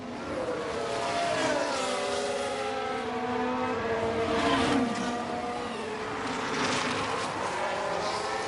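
Formula 1 race cars in F1 Manager 23, a Ferrari and a McLaren among them, scream past at Melbourne with rising and falling engine whines that sweep steadily through the clip, a voice talking faintly over the roar.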